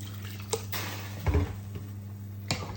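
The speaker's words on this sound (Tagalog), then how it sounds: "Mag-additional tayo ng tubig." Water poured into a pot of chicken saluna as it cooks, with soft splashing and dripping and a few small clinks against the pot, quiet and close.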